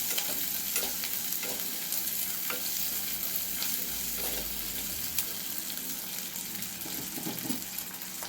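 A handful of garlic and sambar onions sautéing in oil, a continuous close sizzle broken by intermittent scraping and stirring clicks from a spoon in the pan.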